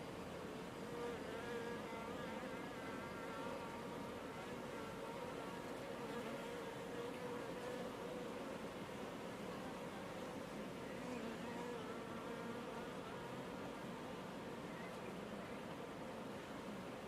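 Honeybees buzz around a hive box, a dense, continuous droning hum from many insects that holds steady and fairly faint throughout.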